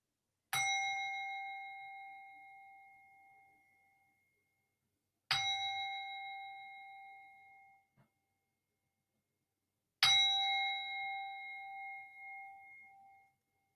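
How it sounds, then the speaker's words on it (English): A meditation bell rings three times, each strike clear and resonant, ringing out and fading slowly before the next, evenly spaced with silence between. "3 bells to start with, 1 bell every time 5 minutes passes"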